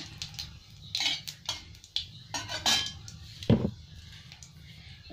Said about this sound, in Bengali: এবার চালটা তুলে দিলাম।